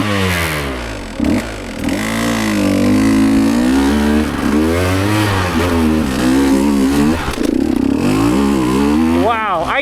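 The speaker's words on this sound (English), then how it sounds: "This bike just freaking goes up stuff like that." Dirt bike motorcycle engine climbing over an obstacle on a mountain trail, loud and close with rising and falling revs throughout and a sharp throttle burst near the end.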